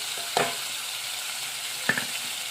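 Green chilli paste frying in hot oil in a home kitchen, a soft steady sizzle with two brief louder stirring scrapes near the start and end, close by with no talk.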